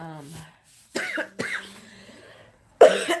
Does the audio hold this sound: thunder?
no